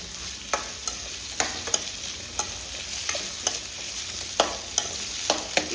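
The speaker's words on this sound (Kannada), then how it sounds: "ಈಗ ಇದನ್ನು ಸ್ವಲ್ಪ ಎಣ್ಣೆಯಲ್ಲಿ ಫ್ರೈ ಮಾಡುವ" Coarsely cut onions fry in a little oil for sambar, with a steady crackling sizzle. A spatula scrapes and taps the pan every half second or so.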